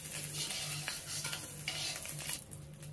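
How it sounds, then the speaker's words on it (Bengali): Egg cubes fry in mustard oil in a karahi, a steady soft sizzle running throughout with a few light scrapes and clinks of a utensil against the pan, no voices present. "সেই কিউব করে কেটে রাখা ডিমগুলোকে ভেজে নিচ্ছি।"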